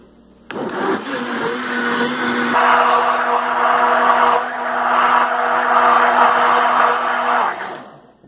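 A blender switches on abruptly and whirs loudly at high speed, its pitch shifting slightly midway, then winds down near the end.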